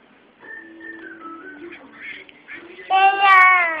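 Nasal, buzzy quacking calls, a short run of them, growing louder toward the end, heard close and without any talking.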